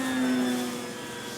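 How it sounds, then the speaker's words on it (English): A Dynam PT-17 RC model biplane flies overhead with a steady electric whine and drone that holds fairly even and then eases slightly as it moves off. No one speaks. "It's a biplane."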